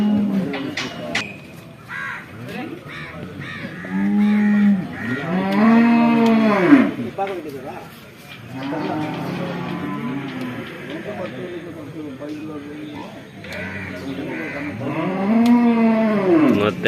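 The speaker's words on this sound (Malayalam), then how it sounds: "പൈക്കുട്ടി." Calves and cattle at the Kollannur cattle market low in long, rising and falling moos, several calls in a row and close by, with people talking and market noise underneath.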